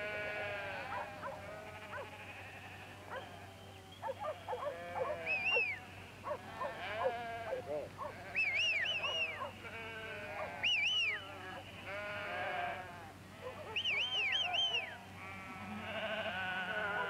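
Sheep on a hill station bleat repeatedly in a loose, overlapping chorus, some calls near and loud, others fainter, over a low steady background hum.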